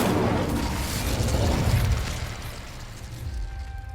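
Incendio fire spell cast in Hogwarts Legacy, a loud rushing burst of flame with a deep booming roar that gradually fades and thins out over a few seconds.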